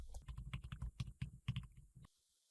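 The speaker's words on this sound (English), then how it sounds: "here I'm typing my password" Rapid, close clicking of a computer keyboard as a password is typed, a quick burst of keystrokes that stops abruptly near the end.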